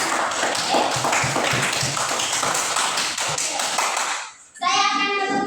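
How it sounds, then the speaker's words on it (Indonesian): An audience gives a group steady, dense applause for about four seconds, many hands clapping at once, then it fades out abruptly and a brief tonal sound follows. "Silakan beri aplaus kepada kelompok."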